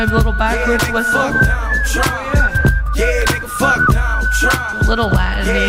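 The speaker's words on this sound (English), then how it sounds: "My little backwards whistle." A backwards whistle sample plays a short Latin-flavoured lick over a dense beat with heavy low bass, sounding loud and continuous.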